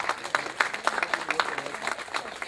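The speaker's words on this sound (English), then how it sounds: "Please give a round of applause." A modest round of applause at an Igbo Day symposium, scattered individual claps from a smallish audience, fairly quiet and brief.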